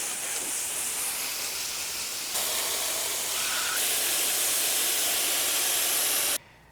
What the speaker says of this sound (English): Just do it with your hose and kind of just rinse it off.